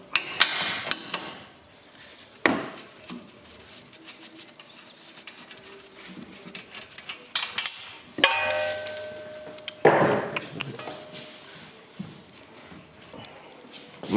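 Hammer blows on a seized suspension nut while fitting lowering springs to the front of an Opel Insignia Turbo in a garage, sharp metallic strikes at scattered intervals, a few loud hits standing out among clanks and workshop noise.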